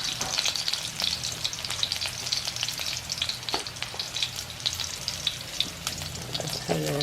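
Vegetables including chayote stir-fry in a hot pan, a steady close sizzle broken by frequent crackles and the clatter of stirring, with no voices.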